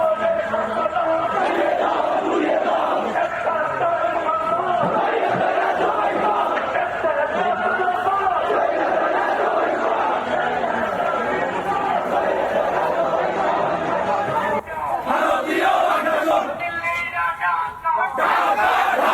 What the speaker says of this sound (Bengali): এই মিছিল থেকে কি স্লোগান উঠছে দর্শকদের শোনাবো